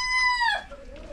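Hens in a backyard coop cackle as they lay eggs, a close, loud, tonal call that rises and then drops into a lower, drawn-out note, with no talk over it.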